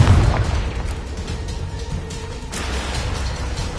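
A Confringo blasting spell goes off in Hogwarts Legacy with a deep, booming burst that fades into a rumbling tail with debris-like crackle, loud and close.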